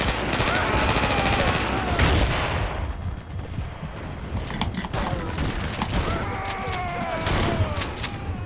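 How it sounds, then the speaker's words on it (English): Shotgun blasts and gunfire in the video game Battlefield Heroes, loud repeated shots with ringing tails over steady battlefield noise, with a voice talking faintly underneath. "This shotgun is pretty efficient, as you just saw."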